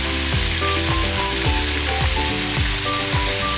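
Beef stir-frying with salt in a hot pan, a loud continuous sizzle with a background music track and rhythmic stirring scrapes, no speech.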